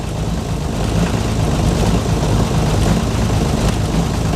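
An SD33T diesel engine warms up at a fast idle around 1,000 RPM while smoking heavily, giving a loud, steady low rumble that drones on evenly without breaks.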